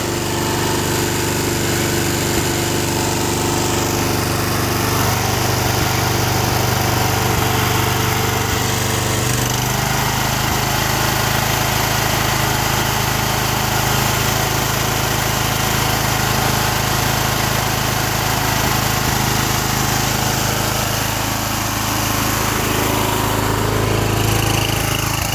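A John Deere 210 tractor with a Kohler K341 16 HP engine with a carburetor fault runs continuously, loud and close, holding a steady, slightly uneven drone with a brief change in pitch partway through.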